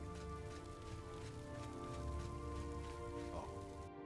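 Video game rain falling indoors, a steady dense patter with a low rumbling wash underneath, continuous and fairly faint, with no voices.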